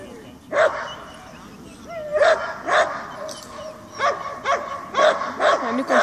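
A dog gives several close, sharp barks and yips in uneven bursts, with people talking in between.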